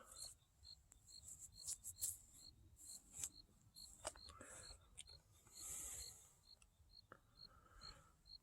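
Bugs chirp outdoors in a fast, repeating high-pitched pulse, faint and steady, with soft rustling and handling noises close by.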